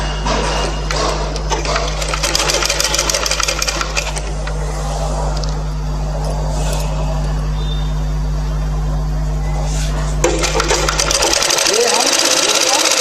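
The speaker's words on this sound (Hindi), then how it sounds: "देखो अभी इसको हम सिलाई एक डाल" A sewing machine stitches a skirt hem, a steady close mechanical whir with a low hum running for most of the stretch before stopping near the end, with someone talking over it.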